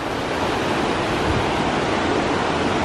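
A swollen river in Idaho rushes past hot spring pools, a loud, continuous broadband roar of churning water with no voices over it.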